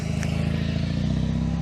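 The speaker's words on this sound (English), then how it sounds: "Fiat 500. Little twin cylinder engine purring away." A Fiat 500's small twin-cylinder engine runs flat out, giving a steady, loud, throbbing drone with a fast regular pulse that holds without a break.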